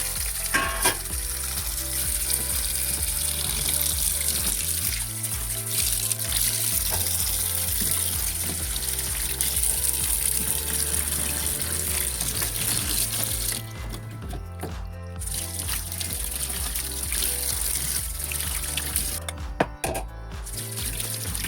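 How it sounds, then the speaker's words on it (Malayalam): Okra is rinsed under a running kitchen tap, giving a continuous splashing hiss of water with occasional clatter and shifts in the flow for about twenty seconds, and no one speaking. "അപ്പോൾ നമുക്ക് വെണ്ടയ്ക്ക നല്ല രീതിയിൽ വാഷ് ചെയ്യാം"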